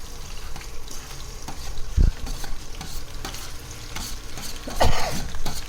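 Onions and green chillies fry in hot oil, a close continuous sizzle with stirring scrapes and a couple of sharp clanks from the spoon against the pan.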